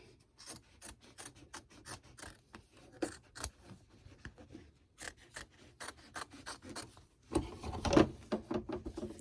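Scissors snip and rasp around an embroidered daffodil coaster in a string of close, quiet cuts, with louder fabric rustling near the end.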